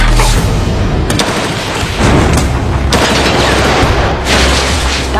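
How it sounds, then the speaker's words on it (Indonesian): Heavy gunfire in a battle scene from The Walking Dead: dense, loud volleys of shots and booming blasts packed continuously across the whole stretch, with no clear gaps and no talk. "mereka saling tembak"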